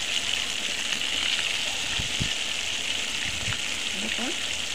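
Loitta fish going into hot oil for frying, a broad steady hiss of oil with a few splashy thumps as pieces drop in, and a voice talking over it toward the end.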